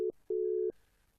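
A telephone busy signal sounds on an unanswered call: loud, steady electronic tones broken by short gaps, a brief beep and then a longer one, ending abruptly into faint line noise.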